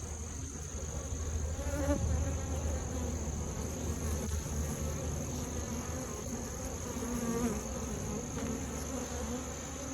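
Dense, steady buzzing of many honey bees in an opened medium hive super during a fall inspection, a continuous close drone with no talking.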